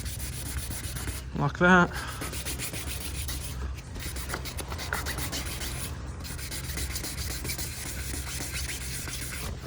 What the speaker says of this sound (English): all you need to do is just go along with your wet and sand and just give that a quick little rub